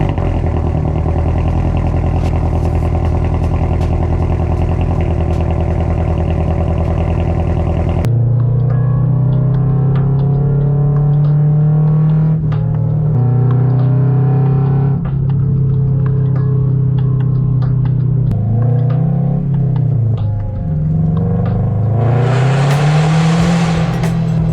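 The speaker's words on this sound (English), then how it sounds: "let's go ahead and get the car started up and we'll head out" A Toyota GR86's engine settles into a steady running note, then pulls away with the revs climbing, dipping and climbing again as the car drives off, loud and close with no one talking.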